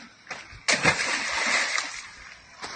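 A sharp splash of a stone dropping into a shallow puddle, followed by a brief slosh and splatter, close by, with a fainter second splash at the end.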